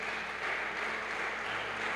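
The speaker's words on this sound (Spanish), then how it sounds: "Denle un aplauso al Señor por eso." A church congregation claps together in steady, continuous applause heard at a distance, a dense, even wash of sound with no break.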